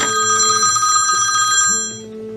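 A telephone ringing with an incoming call during a fantasy football radio show, a loud, close electronic trilling ring that continues steadily, then fades and gives way to a softer tone.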